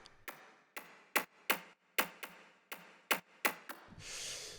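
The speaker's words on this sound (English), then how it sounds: "So yeah, these kind of metallic plucks are on top" Metallic synth plucks from FL Studio textural layers, about ten crisp, evenly spaced hits that decay quickly, followed by a wash of airy white noise at the end.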